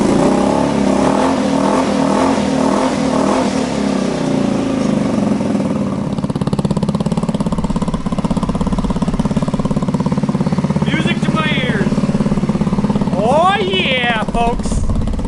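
A stretched Honda Ruckus scooter's small engine starts and runs, chugging rhythmically at first, then revving and settling into a steady loud drone, with a person talking over it.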